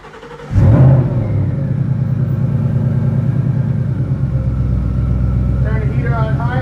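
Supercharged 2018 Ford Mustang 5.0 V8 cranking and catching with a sharp roar, then settling into a loud, steady lumpy idle close by, with a voice briefly heard near the end.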